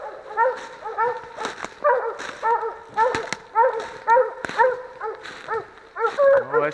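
Hunting dogs on a coon hunt in a wildlife management area bark and bay over and over in yelping, whining cries. The calls come in steady repeated bursts from fairly close, with no talk over them.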